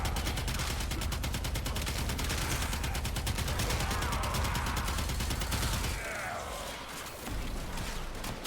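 Rapid, continuous gunfire from the Twin Kohmak weapon in the video game Warframe, dense and loud throughout with a brief dip near the end before the firing resumes.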